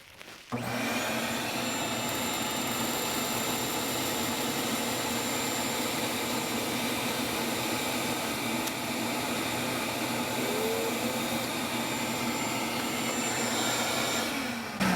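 A shop vacuum runs continuously during dryer vent cleaning on a Maytag Maxima dryer, a steady loud whooshing roar that starts abruptly and holds for the whole stretch.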